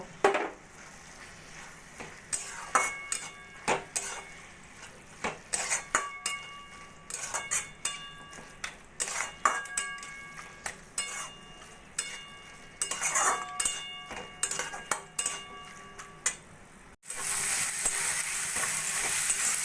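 Red spinach is mixed with rice flour and fried in a pan, with frequent metallic spoon clinks and scrapes over a sizzle that swells into a loud, steady hiss near the end.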